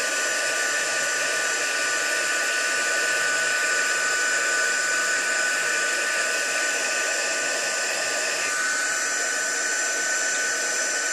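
A heat embossing tool blows steadily over an embossed flower, a continuous loud airy whir like a hair dryer that runs unbroken the whole time with no talk over it.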